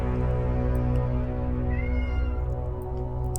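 A cat meows once, a rising drawn-out call heard against a steady low hum of background noise, with no talk during the clip.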